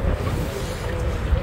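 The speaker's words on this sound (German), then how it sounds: "Aber es geht ganz schön wind" Strong wind buffets a river houseboat, a steady low roar and rumble of gusts against the microphone with faint water movement beneath, continuous and close throughout.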